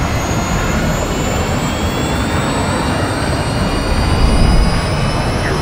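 Missile streaking at Mach 3 in Call of Duty MW2, heard as a loud, continuous jet-like roar with a steady high whine, swelling slightly toward the end.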